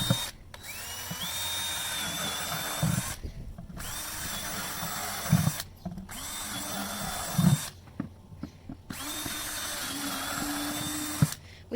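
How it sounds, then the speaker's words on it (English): Electric drill with a 3/8 bit boring drain holes in a 5-gallon plastic bucket, several whining bursts separated by short pauses, close and loud. "you're going to take your 5-gallon bucket and you're going to drill 5 drain holes for your plants"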